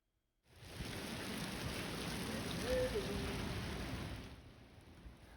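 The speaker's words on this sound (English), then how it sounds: "Wintry weather surprised South Bay residents yesterday, and rain and even hail came down during the afternoon hours." Rain comes down steadily during an afternoon of wintry weather with hail in the South Bay, a broad continuous hiss that begins after a short silence and stays loud and even before tapering near the end.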